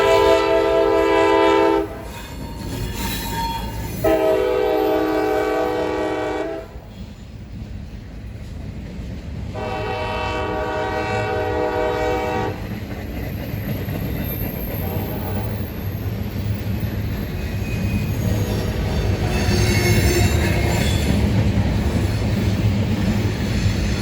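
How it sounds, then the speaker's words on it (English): A train rolls past on the S-Line tracks, sounding its horn in several long blasts before the steady rumble and clatter of the cars carry on loudly to the end. "For the record, this was not one of our trains of interest today, but it was still cool to see"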